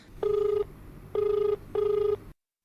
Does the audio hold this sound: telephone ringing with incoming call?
yes